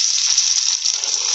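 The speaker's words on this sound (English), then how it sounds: "and I'm just frying" Beef sticks for sweet, sticky Irn-Bru beef fry in a medium-hot pan with about half a centimetre of oil, giving a close, steady, loud sizzle and crackle with no talking.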